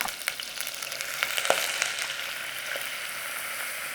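Flour cooking in butter in a pan for a parsley sauce gives a soft, steady sizzle with a few light scrapes and taps, close and fairly quiet, with no one talking.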